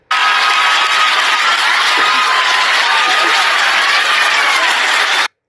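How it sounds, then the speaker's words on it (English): A live comedy-show audience claps steadily and loudly, dense applause with scattered cheers and whoops running unbroken for about five seconds before cutting off abruptly. "So, you're just going to stand there and clap"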